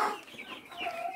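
Hens in a backyard coop, with Rhode Island and Brahma chicks among them, give soft close clucks and short throaty murmurs in a brief, continuous burst.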